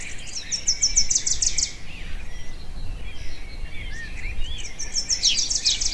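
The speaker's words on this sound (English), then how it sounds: "The oriole is a medium-sized bird." An oriole sings bright, high-pitched trilled phrases in two bursts separated by a pause, moderately close over steady outdoor background noise.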